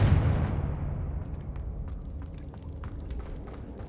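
A Confringo fire spell bursts in Hogwarts Legacy. A single loud, close blast starts the sound, then its deep rumble fades into scattered crackles and debris ticks, with no talking.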